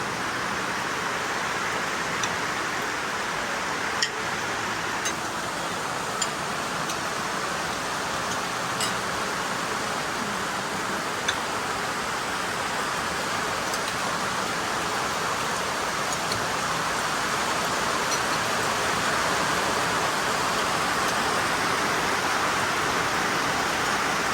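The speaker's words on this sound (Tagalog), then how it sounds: "Nabot na ng ulan." Rain falls onto a metal sheet roof as a steady, even hiss that does not let up, with a few faint taps and knocks showing through the wash.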